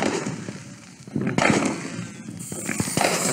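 Firecrackers popping outdoors on a busy street, sharp cracks scattered over a steady crowd-like roar of noise, fairly loud and close.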